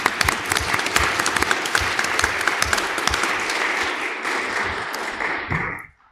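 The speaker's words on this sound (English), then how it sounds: "give all these women a good round of applause" A room full of attendees at a social justice lecture panel applauds the women present, loud sustained clapping from many hands that rolls on steadily before fading out abruptly.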